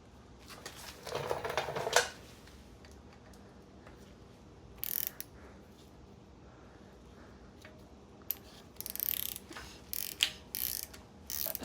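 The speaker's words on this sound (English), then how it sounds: "All you need is a regular ratchet, 3/8, and watch how it come off." Clicking of a 3/8-inch ratchet turning out a Snap-on Torx 30 bolt on the rear brakes of a Mercedes-Benz GLB, heard as short bursts of quiet mechanical clicks spread over a fairly still background.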